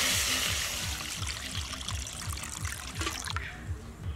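Water poured into a container while preparing a fish recipe, a close, continuous trickling stream with a rhythmic gurgle that thins toward the end.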